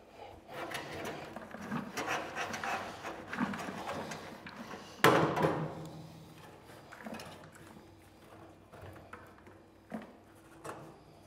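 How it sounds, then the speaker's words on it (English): Wet wood pellets raked out of a Camp Chef pellet grill auger, giving continuous close scraping and rubbing with gritty rustles and one sharper knock midway, then quieter scrapes. "you're going to want to rake it and get all the pellets out of the auger"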